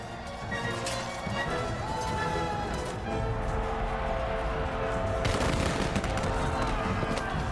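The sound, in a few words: arquebus and cannon gunfire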